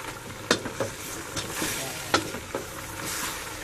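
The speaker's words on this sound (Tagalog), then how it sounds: "Haluin natin." Okra and other pinakbet vegetables are stirred in a pan, with a few sharp scraping knocks over a soft, steady sizzle and no talk.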